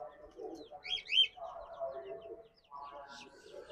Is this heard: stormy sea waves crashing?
no